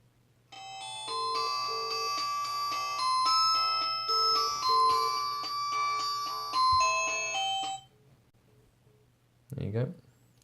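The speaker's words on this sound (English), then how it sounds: "couple of rings before it usually does anything." A WatchU smartwatch plays its outgoing call ringing tone, a bright electronic chiming melody repeating for several seconds before stopping, followed by a brief voice near the end.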